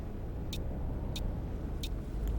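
A tourist bus in a driving simulator game pulls away after being put in gear, with a steady low engine rumble and three short hissing air bursts spaced evenly over it.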